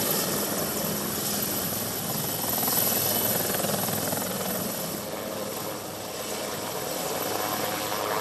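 A rescue helicopter flies over the Girna River in Nashik during an operation to lift twelve stranded young men from a rock, its rotor throb and engine roar steady and fairly close throughout, with no voices.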